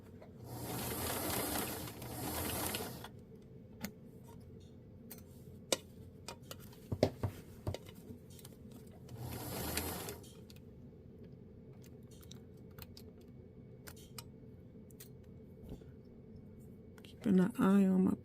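A sewing machine stitches a garment seam with a basting stitch, running in two steady bursts near the start and again around ten seconds, with quieter handling noise and clicks between.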